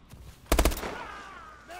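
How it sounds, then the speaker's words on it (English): A sharp burst of sniper gunfire in Call of Duty: Advanced Warfare, a cluster of loud cracks midway followed by a ringing tail of game sound, with faint talk nearby. "I got sniped"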